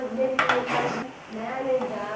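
Cooked, softened tomatoes are scooped out of a pan into another vessel with utensils, giving a few clinks and scrapes of metal on cookware.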